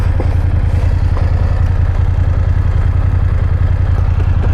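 A BMW RT touring motorcycle's engine drones steadily while riding, a loud, continuous low rumble with wind and road noise throughout and no speech.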